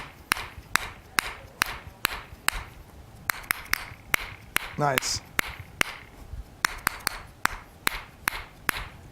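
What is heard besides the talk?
hammer tapping on a person during a health treatment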